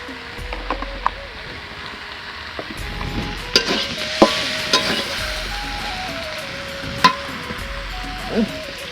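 Potatoes and peas are sautéed with spices in a pan for ghugni, a steady low sizzle under repeated scraping and stirring strokes with occasional sharp clinks of a utensil against the pan.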